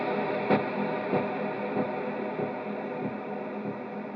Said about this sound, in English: You can hear that pre-delay allow that reverb to kind of bloom